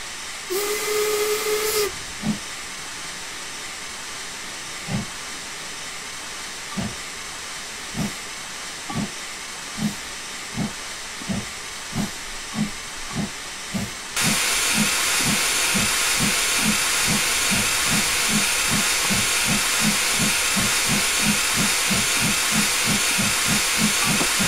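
LMS Class 8F steam locomotive in Train Simulator 2016 on the Border Lines route, starting with a brief steam whistle and hiss, then steady exhaust chuffs that quicken into a fast, even beat over a constant roar of steam.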